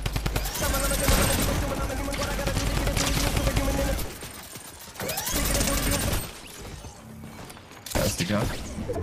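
Rapid, continuous minigun fire from the Fortnite video game rattles close and loud, breaking off briefly around the middle before resuming in sustained bursts, with players' voices talking over it.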